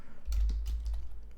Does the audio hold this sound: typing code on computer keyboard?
yes